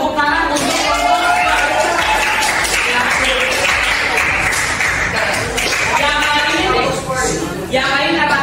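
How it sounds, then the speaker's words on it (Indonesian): A classroom group claps for classmates, loud dense clapping running through most of the stretch, with voices and chatter mixed in. "Tepuk tangan"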